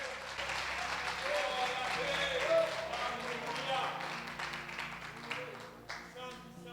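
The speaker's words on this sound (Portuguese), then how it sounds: "Você pode aplaudir a Ele nessa noite?" A church congregation applauds during an evangelical service, a broad wash of clapping at moderate level, with sustained voices and music-like tones underneath throughout.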